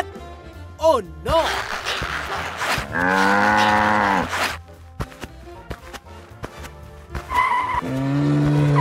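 Loud drawn-out cow moos sound in a video game race between farm and wild animals, with engine and skidding effects, voices speaking between the calls.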